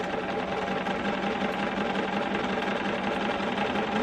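Bernina sewing machine running steadily as it stitches a fabric strip with a quarter-inch edge foot, a continuous close whirring drone with even mechanical hum throughout and no talking.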